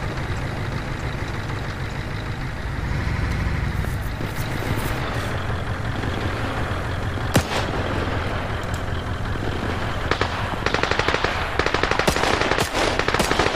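Sustained automatic gunfire in the military shooter Arma 3 during a desert campaign push, with dense machine-gun bursts and scattered single shots over a steady rumble of vehicle engines, fairly close and continuous throughout.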